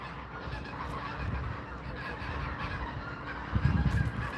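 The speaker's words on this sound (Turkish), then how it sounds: "Kazlar bir yandan yem yiyor, bir yandan şurada yıkanıyor." Geese honk and cackle in a busy outdoor flock on a farm, feeding and bathing, a steady noisy chorus at moderate distance with louder calls near the end.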